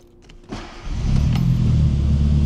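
A classic Mini, sold as new, starts first try: a short whirring crank, then the engine catches and settles into a steady, low, rumbling idle heard close up.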